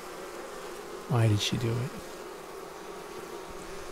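Honeybees buzz around a hive in a faint, steady drone outdoors, while a person briefly speaks over it.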